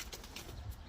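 Pigeons released outdoors give a soft cooing against steady low rumbling background noise, fairly faint and continuous with no talk.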